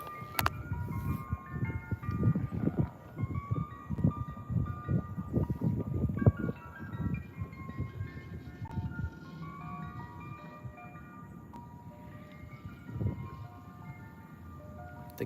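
An ice cream truck plays its jingle outdoors in a backyard, a looping chiming melody carried over the air, louder at first and then fading as it moves off, with no voices.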